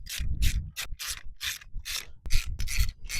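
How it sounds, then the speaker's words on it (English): Screws are driven in with a ratchet to mount a new windshield wiper motor on a 2004 Ford Taurus: close, repeated rasping clicks in about ten quick strokes, steady and regular, with no talk. "Line up the new motor, put in the 3 screws first to hold the motor in place."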